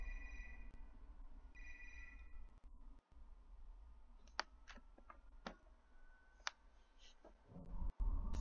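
Telephone ringing in a Five Nights at Freddy's fan game, A Shadow Over Freddy's, with a few faint repeated ring bursts followed by scattered clicks and thumps in a quiet room.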